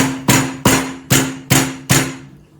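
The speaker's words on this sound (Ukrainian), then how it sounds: "починаємо з редиски, відповідно, будемо її бити" Radishes being beaten for a recipe with a makeshift kitchen tool, five sharp, loud thuds at an even pace, each ringing off quickly, close up with no talk.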